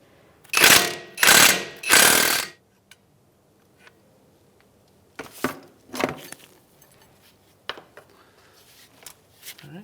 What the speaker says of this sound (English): Use a 19 millimeter on an impact on the bolt side.